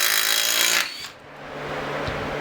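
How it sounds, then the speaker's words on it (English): A Snap-on cordless impact wrench hammers loudly for under a second on a bolt torqued to 75 foot-pounds, then cuts off, leaving a brief whirring tail. "See if the snap-on will remove 75 foot-pounds."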